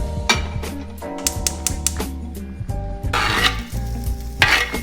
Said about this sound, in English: we're gonna actually saute them very slightly in a little bit of olive oil